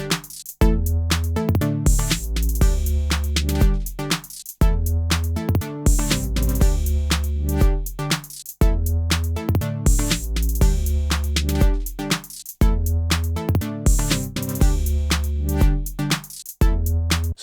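A glitchy electronic loop built in Ableton, chopped, duplicated and reversed with a bass line added, plays loud and alone in steady repeating bars with stuttering cuts and deep low end.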